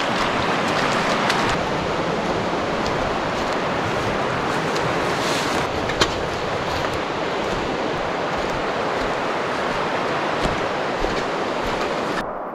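A waterfall on a river roars steadily nearby, a broad continuous wash of noise with occasional wind buffets and a few sharp knocks.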